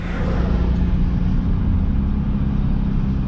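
An old, rusty car with failed brakes driving along, its engine and road noise forming a steady, loud, close rumble throughout.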